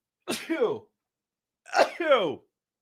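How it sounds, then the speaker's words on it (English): Two close, sharp sneezes about a second apart, each a quick burst with a voiced tail, followed by quiet. "I got to sneeze."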